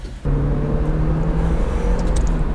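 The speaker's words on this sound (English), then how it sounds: "Listen to that. Yeah! We're now at 60 miles an hour." Mazda MX-5 NB sports car with a steady engine drone accelerating toward highway speed, loud and continuous from inside the cabin after a brief dip at the start.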